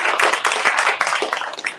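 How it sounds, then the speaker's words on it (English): Steady applause from an audience at a public talk on drinking water protection in Iowa, dense and fairly loud, lasting the whole stretch with no voices over it. "let's clap for Todd Dorman"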